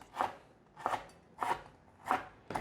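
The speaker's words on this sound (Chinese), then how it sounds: "准备4个素香菇角，把它切丝" A kitchen knife slices frozen shiitake mushrooms into thin shreds, producing five crisp, evenly spaced chops that land close and clear over near silence.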